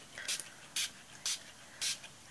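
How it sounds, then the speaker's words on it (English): Four short hissing bursts from a water spray bottle misting a watercolor flower painting, evenly spaced, close and fairly quiet against a soft room background. "we are gonna spray. It's just the water here."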